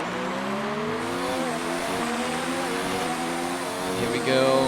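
Onboard race car engine from a racing video game at a China circuit, a steady loud revving drone with rising and falling gear pitches, shifting partway through and flaring louder near the end.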